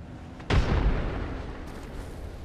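A frag grenade detonates in the Apex Legends shooter game, one sudden heavy boom followed by a rumbling decay and lingering ambient noise.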